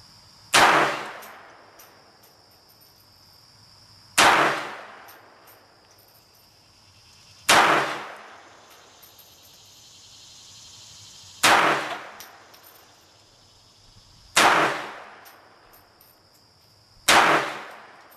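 A Walther PPK pistol fires at an outdoor range: five single shots spaced a few seconds apart, each a loud, sharp crack with a short echo. Insects chirp faintly in the background between shots.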